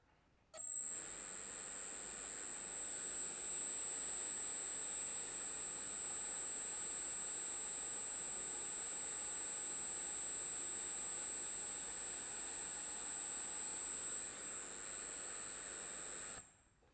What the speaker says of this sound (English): our correction weight is applied to the EDF now, and we're going to give that another run